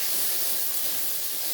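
Spices and red chili powder fry in a pan for a mutton curry, a steady close hiss and sizzle at even loudness with no talk.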